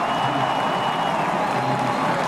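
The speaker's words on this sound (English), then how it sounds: "and the crowd roars." A racing crowd at a NASCAR Coke Zero Sugar 400 event roars and cheers after a crash, giving a steady, dense wall of broad crowd noise with no break.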